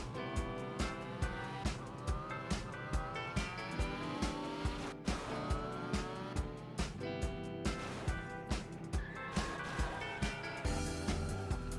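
A Peregrine car driven in the video game Gas Gas Gas Simulator, its engine droning steadily with a dense, rhythmic layer of game music and repeated tire screeches throughout, heard alone without talk.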